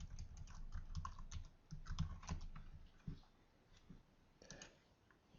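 A password is typed on a computer keyboard in quick bursts of close, crisp key clicks, then slows to a few scattered taps with quiet pauses before a final short flurry.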